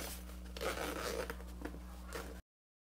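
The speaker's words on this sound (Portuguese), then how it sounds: "Agora, para desvirar, é só abrir o zíper." A zipper on a large handmade toiletry box with a waterproof lining is pulled open in a couple of quick raspy runs, close and alone, before the sound cuts off.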